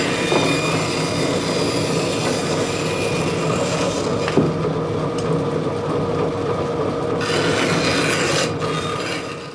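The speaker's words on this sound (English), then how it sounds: "Shaping the hurl on the bandsaw is called sliding." Bandsaw slicing and shaping a wooden Irish hurl, a steady rasping cut that runs continuously and close, with slight shifts in tone as the blade works through the wood.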